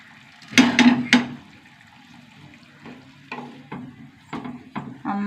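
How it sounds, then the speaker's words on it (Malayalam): Water poured into a pot of turmeric-cooked lentil curry, short splashing gushes in a few separate bursts with quiet gaps between them. "കുറച്ചും കൂടി വെള്ളം ഒഴിച്ച് കൊടുക്കാം."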